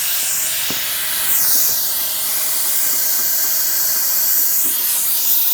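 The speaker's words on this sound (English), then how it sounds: "Sounds like we got an air leak somewhere." Steady, loud high-pitched hissing of an air leak at the air hookup of a BestArc BTC500DP plasma cutter, a continuous airy rush that holds without a break.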